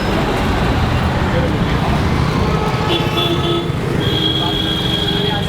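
Street traffic in Old Delhi heard from a pedal rickshaw: a steady, dense roar of engines and road noise close around, with faint horn-like tones rising near the end and no clear voices.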